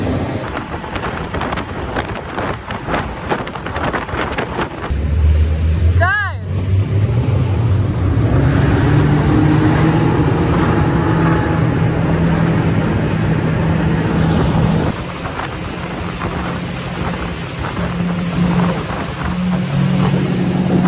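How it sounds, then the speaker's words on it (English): Ribeye Prime RIB boats with Mercury outboard engines roar into motion, loud engine drone rising and holding steady with wind buffeting the microphone and water rushing past. "We're now going to take these boats for a spin."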